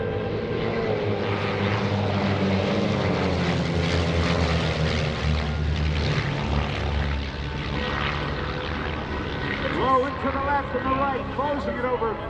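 Vans RV propeller planes in formation at the EAA AirVenture 2018 airshow, a steady loud propeller drone sweeping past overhead throughout, with an announcer talking over it on the public address.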